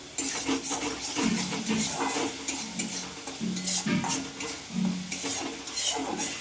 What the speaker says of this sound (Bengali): যা তেল ছাড়ছে মশলাটা ততক্ষণ কষবো